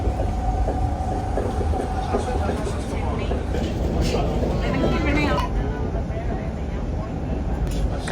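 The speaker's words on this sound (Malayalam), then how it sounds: "അപ്പോൾ നമ്മൾ ട്രെയിനിൽ കയറാണ്" A passenger train runs along the rails, giving a steady rumble with faint rhythmic clatter, while people talk quietly nearby.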